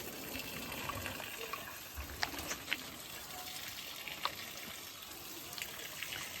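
Faint, steady gush of water poured onto garden plants, a soft continuous splashing with a few small taps and knocks, distant and low in level.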